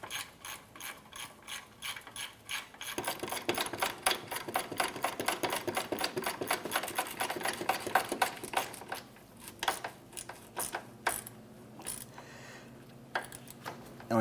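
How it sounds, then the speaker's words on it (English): Rapid ratcheting clicks from a wrench tightening front sway bar bushing bolts on a 2004-2008 Acura TL, a steady close mechanical rattle that speeds up and slows with pauses between strokes. "So now we can go ahead and tighten these down."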